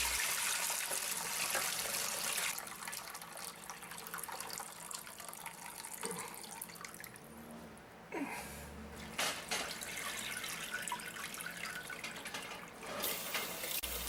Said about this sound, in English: we strained the broth into a large container.